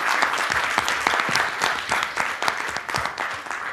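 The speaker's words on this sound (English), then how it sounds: "let's all just give them a round of applause" Round of applause from the audience at an International Women's Day event celebrating women in STEM, brisk close clapping sustained for the whole stretch with no talking.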